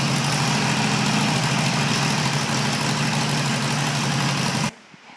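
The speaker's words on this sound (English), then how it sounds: "It's a 2009 Harley Davidson 883 Sportster, stock from the factory, 301 miles." Steady, loud idle of a stock 2009 Harley-Davidson 883 Sportster motorcycle engine, a continuous low throbbing rumble that runs alone for about five seconds before cutting off abruptly.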